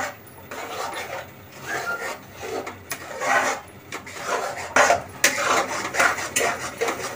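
A spoon rubbing and scraping through thick besan katli mixture in a pan over low heat, repeated close strokes in an uneven rhythm with no talk.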